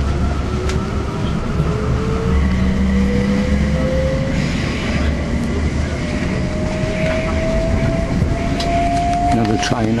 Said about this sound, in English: Train up on the high level.